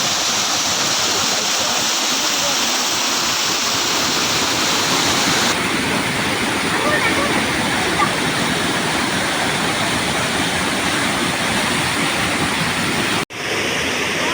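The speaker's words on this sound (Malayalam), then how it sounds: "ഇവിടെ സംസാരിച്ചാലൊന്നും കേൾക്കാൻ പറ്റില്ല, വെള്ളത്തിൻ്റെ ശബ്ദമാണ്." Loud, steady roar of Areekkal waterfall pouring down from a great height, a dense unbroken rush of water filling the whole clip with no voices.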